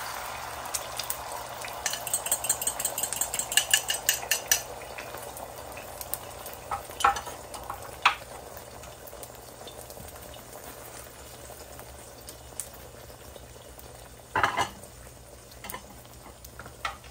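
An egg fries in very hot oil, a constant crackling sizzle with bursts of louder spattering pops, heard close and alone for the whole stretch.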